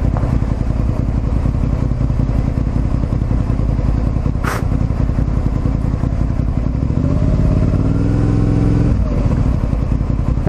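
Liter-class motorcycle ridden along a street, with steady engine rumble and road noise throughout, a brief sharp transient midway, and a rising rev near the end.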